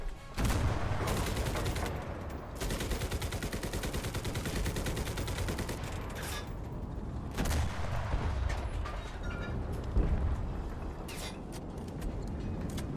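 Sustained machine gun fire in the WWII shooter Enlisted during the Battle of Berlin, loud rapid bursts blending with other gunfire and battle noise, running almost continuously with brief surges.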